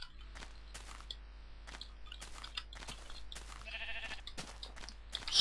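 Sheep bleat repeatedly in the Minecraft video game, with short, sharp calls spaced irregularly over a steady low background and crunchy footstep-like sounds.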